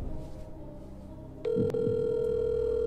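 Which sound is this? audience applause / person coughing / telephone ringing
telephone ringing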